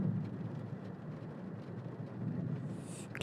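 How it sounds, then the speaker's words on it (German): Steady rain with low rumbling thunder inside the horror game The Mortuary Assistant, a continuous wash of falling water under a deep roll, with a brief bright noise near the end. "Es regnet noch."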